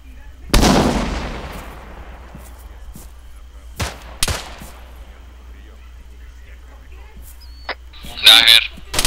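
A grenade blast in Arma 3 hits hard and booms out in a long decaying rumble. A few sharp, separate gunshots crack afterward over a quiet background, and a brief voice comes near the end.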